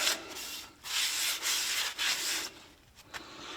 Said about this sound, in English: I'm just going to wipe it around the inside with a bit of petrol